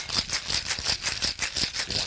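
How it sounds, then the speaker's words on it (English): A cocktail shaker full of ice is shaken hard for a Cabaret cocktail, giving a fast, even rattle of ice against metal, close and steady with about ten sharp strokes in two seconds. "grab your shaker and give it a good shake"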